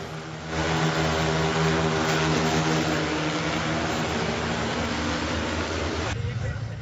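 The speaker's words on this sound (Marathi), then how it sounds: "नवीन तंत्रज्ञानामध्ये ड्रोनच्या द्वारे फवारणी व्हावी याच्याकरता हे प्रात्यक्षिक या ठिकाणी दाखवलं आहे" An agricultural spraying drone flies during a field demonstration, giving a steady, loud, droning hum that rises in at the start, holds evenly and drops away near the end.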